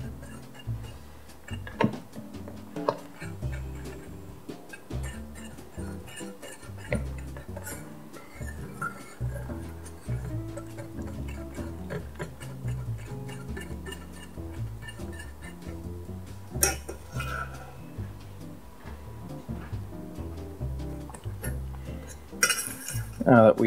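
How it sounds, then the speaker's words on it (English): A spoon stirring brown sugar into melting butter in a pan for hot buttered rum, with steady scraping and frequent light clinks of metal on the pan throughout, close and continuous. "And stir the brown sugar in until it completely melts."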